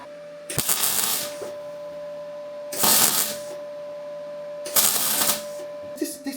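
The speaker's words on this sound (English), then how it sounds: "just pull the trigger and it'll weld" A trigger-operated welding gun fires in three separate bursts of crackling, buzzing hiss, each lasting about a second, with a steady machine hum in between and a short partial burst at the end.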